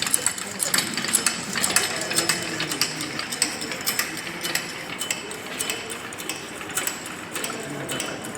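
Bicycle pedal and crank set turning, giving a rapid, steady run of close mechanical ratchet clicks over a faint background hum.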